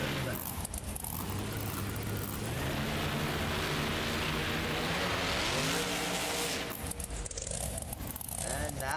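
The Monster Mutt Rottweiler monster truck engine roars at a BeamNG Monster Jam event in Sacramento, CA. The revving is loud and sustained, rising and falling in pitch across the whole stretch.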